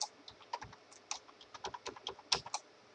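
Quiet clicking of fingers typing on a computer keyboard, a quick irregular run of about a dozen light keystrokes close by, with no talking.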